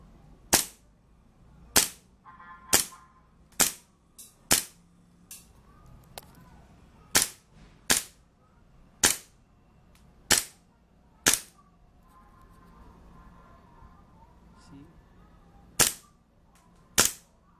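A Hi-Capa Dragon airsoft pistol fires about fifteen sharp, snappy shots at a target cup, spaced unevenly with short pauses between, crisp and close against a quiet background.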